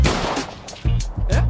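Close, loud gunshots fired to smash out a car window, several sharp cracks in quick succession over a noisy background, with no clear talk.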